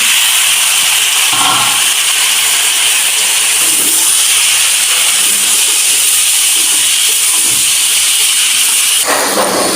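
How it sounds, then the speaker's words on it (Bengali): Steady loud hiss of kalai greens frying in a hot pan with fried onion, green chilli and garlic, continuous throughout with no voices. "মাটি পেঁয়াজ ভাজা হয়ে গেলে শাক দিয়ে দিলাম"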